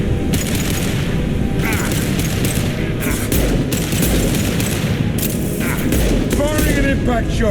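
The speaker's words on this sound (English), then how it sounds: "Firing an impact shot." Impact-shot gunfire in Mass Effect 2 combat rattles in dense, continuous bursts with heavy booms underneath, loud and close throughout, with brief voices in the mix.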